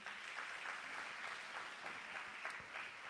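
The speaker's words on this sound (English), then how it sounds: "How's a round of applause there for them?" Audience at a Grade 10 maths workshop gives a round of applause for the AV team, even continuous clapping heard faintly from a distance throughout.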